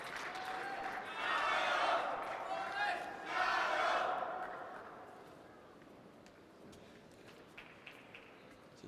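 Chinese fans in a table tennis arena cheer for the Hong Kong doubles pair during a rally, two loud swelling bursts of crowd shouting that fade into quieter hall murmur.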